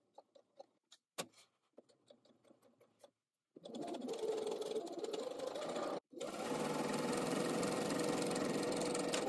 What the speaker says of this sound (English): And I'm sewing with a straight stitch.